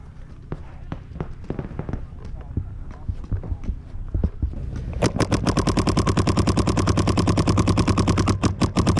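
Rapid paintball marker fire in an NXL tournament game with bunkers, scattered pops at first, then a dense, fast, continuous volley of shots that stays loud to the end.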